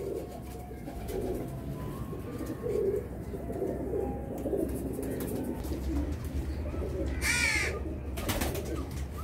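Nearby pigeons coo in soft, repeated low phrases, joined by a brief harsher bird call and light rustling, with no clear speech.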